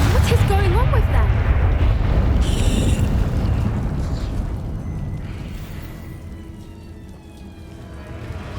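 A Bombarda spell explosion in Hogwarts Legacy opens with a loud, close, rumbling blast that slowly decays into a long fading roar with wind-like noise.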